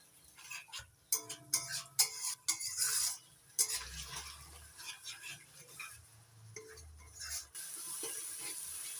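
Spice masala with tomato paste being fried and stirred in a pan for a potato and cauliflower dish, with irregular spatula scrapes and knocks over a soft sizzle, close and quiet with brief pauses.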